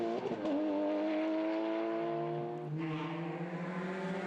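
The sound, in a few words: Porsche rally car driving on a stage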